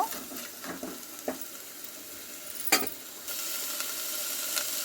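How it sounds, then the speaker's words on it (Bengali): Spices with ginger and garlic paste fry in a pan. A quiet hiss and sizzle sits under a few soft scrapes and taps, with one sharper clatter midway, and the sizzle grows steadier and louder toward the end. "এবার মশলার সঙ্গে ভালো করে কষিয়ে নেব।"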